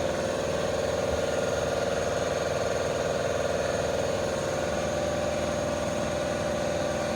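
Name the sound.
car polisher with pad running on vehicle paint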